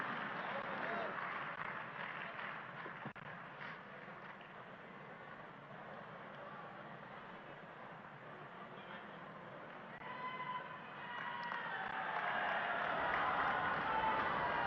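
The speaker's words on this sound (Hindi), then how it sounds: "तालियों की आवाज के साथ, करतल ध्वनि के साथ" Audience applause at a public ceremony in Delhi where slum residents are handed keys to new flats, a broad steady wash of clapping across the whole span that swells louder near the end, with crowd noise mixed in.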